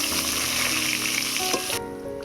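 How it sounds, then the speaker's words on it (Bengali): Chopped onion frying in hot oil for an eggplant, potato and tomato fish curry: a loud, dense sizzle that cuts off abruptly near the end, leaving a quieter hiss. "দিয়ে দিচ্ছি পেঁয়াজ কুচি"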